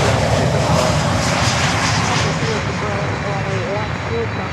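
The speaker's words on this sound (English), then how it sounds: "Volaris coming in with a Neo." A Volaris Airbus A320neo jet arriving at Miami airport makes a loud, steady engine roar throughout, with a voice talking over it.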